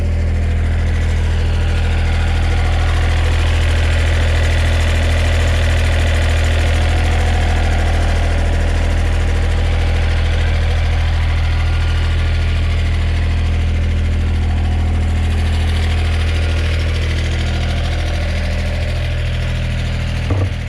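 A 2010 John Deere 1545 4x4 diesel mower idles steadily close by, a constant low rumble with a slight knock that holds unchanged throughout, with no talking.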